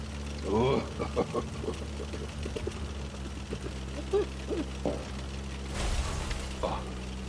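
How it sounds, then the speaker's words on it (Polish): Broth (rosół) is poured in a short, hissing splash near the end, with speech and other household noises around it. "Idę se tu rosołu naprawdę wleję"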